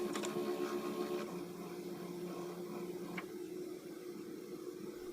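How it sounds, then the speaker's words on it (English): Cricut Maker cutting machine debossing Braille dots into a stencil, a steady low motor hum with a mechanical whir and brief clicks of carriage movement, fairly quiet and alone. "deboss the dots directly on top of the holes in the stencil"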